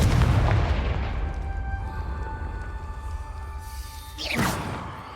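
The Confringo explosion spell in Hogwarts Legacy sets off a loud booming blast that rumbles and slowly decays, followed by a second sweeping burst near the end.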